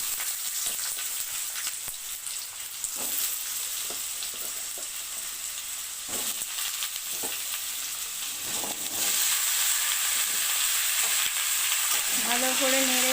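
Kohlrabi pieces sizzle steadily in hot oil in a pan with a torn bay leaf, stirred with scraping strokes throughout; the frying hiss grows louder near the end as more vegetable goes in, with no talking.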